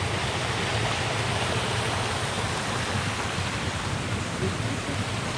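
Constant rushing of flowing river water on the west coast of Palawan at Napsan, a broad steady wash of sound without pauses.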